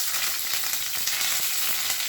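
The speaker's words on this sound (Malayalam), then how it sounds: "കടുക് പൊട്ടി കുറച്ച് കറിവേപ്പില ഇട്ട് കൊടുക്കും." Mustard seeds and curry leaves sizzle in hot oil for a North Indian-style green pea curry. The hiss is soft and steady, with tiny pops scattered through it.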